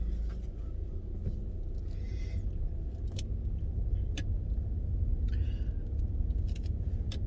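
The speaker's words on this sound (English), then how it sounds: "We're gonna go take the car for a test drive and my seatbelt on." Car on a test drive after a tire rotation, checked for wheel bearing noise; a low, steady road rumble fills the cabin, with occasional faint clicks and jingles.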